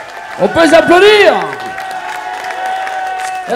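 Crowd cheering and applauding a band at a country music festival, with a loud vocal-like swell early on and then sustained clapping and chatter beneath a lingering tone.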